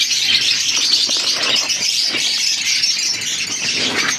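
Pet birds, including parakeets, keep up a dense, continuous chatter of high squawks and chirps in a backyard aviary, steady and fairly loud throughout with no pauses.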